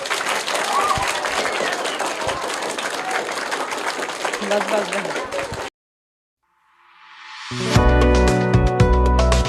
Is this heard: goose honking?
no